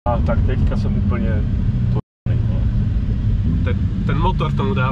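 A V10 supercar engine rumbles steadily at a supercar club gathering, loud and close, with people talking over it and a brief dropout midway.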